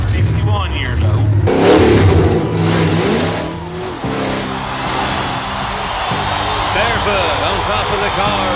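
Monster truck powered by a blown, injected 454 Chevrolet engine, climbing over cars in a motorsports arena, revs loudly in surging bursts while an announcer talks over the roar.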